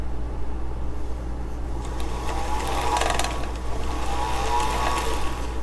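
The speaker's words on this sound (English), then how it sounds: "let's get this bobbin wound" A sewing machine winding a bobbin gives a steady mechanical whir with a faint rattling texture and a brief rise in pitch partway through, close by and with no talking.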